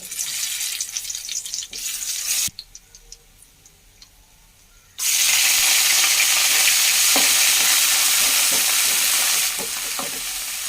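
Leafy greens sizzling and frying in a pan as they are stirred, a loud steady hiss with scraping and ticking stir sounds, briefly dropping to a quiet lull before the frying surges back at full strength.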